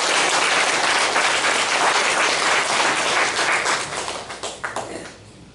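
A church congregation at a Sunday service gives a sustained round of applause, dense and steady, then thinning into scattered individual claps before fading out.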